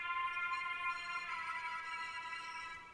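Sustained synth lead built on the Portal preset, treated with EQ, chorus and reverb, holds a bright, shimmering tone with stacked steady harmonics for about three seconds, alone and without any voices.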